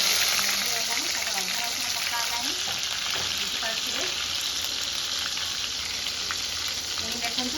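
Prawns and crab frying in hot oil, a dense close sizzle with crackling spatter throughout, under a faint voice speaking in the background.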